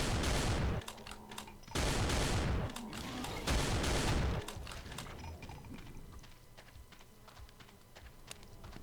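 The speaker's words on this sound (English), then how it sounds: "4 Mancubus up high, firing all over the place." Mancubus demons unleash loud, roaring volleys of fire in Doom II on ultra violence difficulty, with three long blasts followed by a scatter of quieter crackles and clicks.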